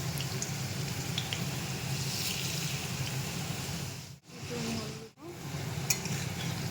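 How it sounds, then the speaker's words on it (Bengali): Potatoes fry in hot oil, giving a steady close hiss and crackle that runs almost continuously, broken by two brief dips, with occasional small pops and no talking. "আলুগুলো মোটামুটি ভাজা প্রায় হয়ে গেছে এবার তুলে ফেলবো নয়তো পুড়ে যাবে"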